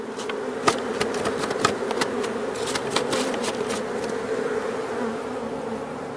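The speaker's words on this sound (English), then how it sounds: "So I'm just going to take these bees and rake them off in there." Bees buzz loudly and densely while being raked off into a different-size hive box from a defensive hive, with scattered sharp scraping and knocking clicks over the swarm drone.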